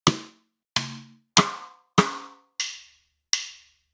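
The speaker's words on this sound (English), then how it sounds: "Got some like rim clicks." Six crisp drum rim clicks struck one at a time outdoors near a garage, close and loud, with short ringing tails and clean gaps between hits; the later strikes sound brighter and thinner.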